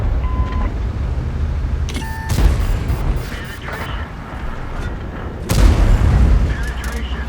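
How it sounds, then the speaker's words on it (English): Tank cannon blasts in a tank video game, World of Tanks style, with a heavy-tank crew. Two loud booming shots land a few seconds apart, with game sound and faint talk in between. "Second shot goes into the track"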